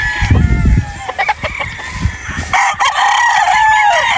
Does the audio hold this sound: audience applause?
no